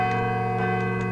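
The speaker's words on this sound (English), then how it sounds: "I should let the bell finish ringing first." A bell rings in the horror video game Call of Cthulhu: Dark Corners of the Earth, holding steady, sustained metallic tones with layered overtones, loud and continuous throughout, with no voices.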